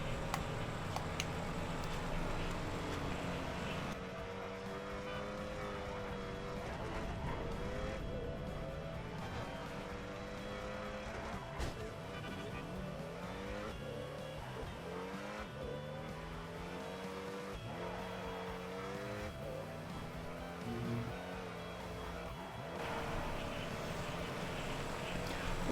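A worn-out post-op delivery truck drives along in the Transport Tycoon video game, its steady engine drone rising and falling with shifting gears, loud and continuous throughout with no talking.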